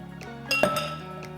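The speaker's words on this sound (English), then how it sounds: "I'm gonna start by adding ice into the glass." Ice cubes clink and knock as they drop into a cocktail glass, a cluster of sharp glassy impacts with brief ringing, close by and without talk.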